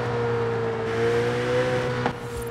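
A car engine in Forza Horizon 5 hums steadily at moderate volume with a smooth, slightly muted tone, shifting slightly near the end.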